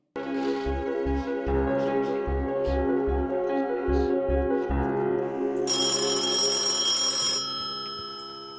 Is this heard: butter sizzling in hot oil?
no